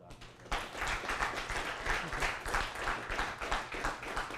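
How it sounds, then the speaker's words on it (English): An audience at a lunch-and-learn talk breaks into applause: a sudden onset of dense, moderately loud clapping from a group that continues steadily, with some voices mixed in. "How about a round of applause for Dr. Ernest?"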